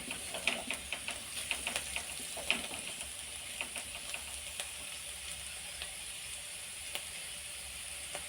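Vegetables fry in a non-stick pan for fried rice, giving a soft, steady sizzle with scattered small pops and crackles throughout.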